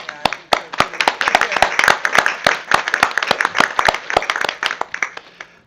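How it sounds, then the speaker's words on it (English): A small council meeting audience claps, sharp separate handclaps building into steady applause at moderate distance, then thinning toward the end. "I think you deserve a round of applause"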